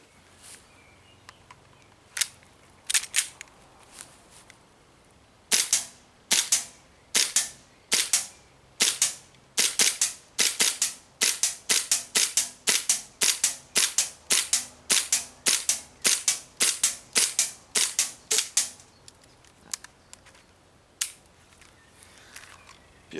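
Colt 1911A1 Tercel airsoft replica pistol firing a long string of sharp, loud shots, first a few spaced pops, then rapid evenly paced rounds with brief pauses, each crack clean and isolated with no voices.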